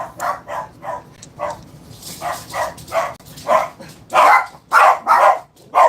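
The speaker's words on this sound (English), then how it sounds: "The dogs are barking." Several dogs bark indoors in short, insistent bursts, roughly two or three barks per second, loud and close, getting stronger toward the end.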